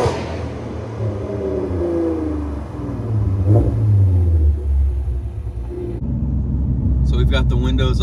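A car engine revs hard and rumbles loudly throughout, climbing under acceleration, with a voice speaking near the end.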